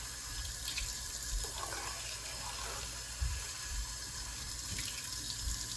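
A tap runs steadily into a sink while a denture container is rinsed, a continuous moderate splashing flow with small shifts as the container moves under the stream, and no talking.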